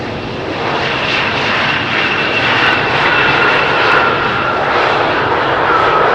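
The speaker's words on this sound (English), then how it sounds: "There's a top Air Portugal Airbus about to touch down, and sorry, not an Airbus, it's an Embraer." A TAP Air Portugal Embraer jet comes in to land on runway 18R at Amsterdam Schiphol on a windy day, a loud, continuous engine roar with a whining tone that swells slightly as the aircraft passes.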